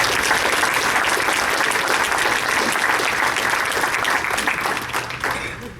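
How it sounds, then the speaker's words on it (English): A large crowd at a charity ball applauds steadily and loudly, a dense wash of clapping that holds throughout and begins to taper off near the end. "So can we all please give her a round of applause?"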